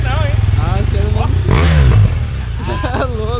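A BMW R1200 motorcycle engine rumbles loudly at close range and swells in a brief rev midway, with people talking over it.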